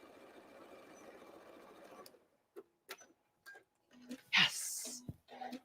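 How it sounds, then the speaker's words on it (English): A domestic sewing machine finishes a seam on an old-fashioned apron, whirring steadily, then stopping. A few short separate mechanical clicks and bursts follow as it back stitches, with a brief louder rustle near the end. "I'm going to back stitch."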